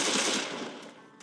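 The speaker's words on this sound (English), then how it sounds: "Can you stop shooting me, dude?" Gunfire in the Left 4 Dead video game, a dense burst of rapid automatic shots at close range that fades off after about a second, with no talk over it.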